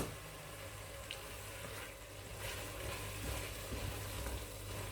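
Peas for a pea pilau cooking in a pan, a soft continuous sizzle and bubbling hiss held steady throughout, quiet and close with no voices.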